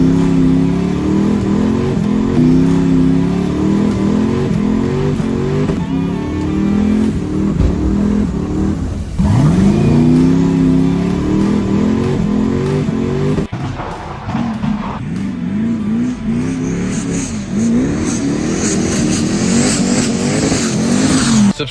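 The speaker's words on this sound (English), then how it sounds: "Burnouts." Tuned Opel car doing burnouts, its engine revving hard and sustained while tires squeal and skid, loud and close throughout with rising and falling revs.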